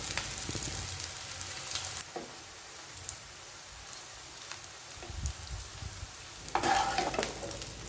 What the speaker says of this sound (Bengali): তেলের মধ্যে আমি এই চৌকো করে কাটা ধোকাগুলোকে সুন্দরভাবে ভেজে তুলে নেব।